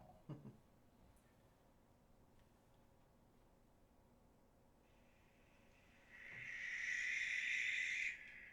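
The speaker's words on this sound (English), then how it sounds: "That's a barn owl." Barn owl call in the Wingspan board video game: a harsh, hissing screech rising loud at the end, after several quiet seconds with a faint tap near the start.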